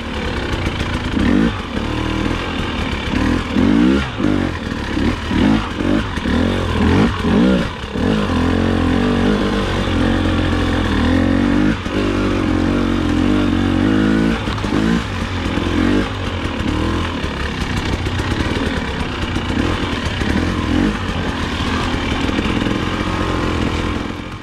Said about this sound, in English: I went ahead and took the bike out for a ride and found that it runs significantly better